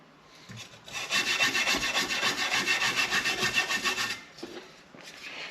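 A wire brush scrubs over rusty metal in a rapid, rhythmic back-and-forth rasp, close and fairly loud, running for about three seconds before stopping, with a few lighter scrapes afterward.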